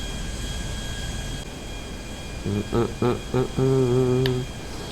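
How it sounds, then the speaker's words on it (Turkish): An airplane engine drones steadily in flight over Los Santos in GTA, a constant jet-like roar, with brief tonal game sounds or voice-like beeps near the end. "Bu arada uçak aşırı ağır hareket ediyor."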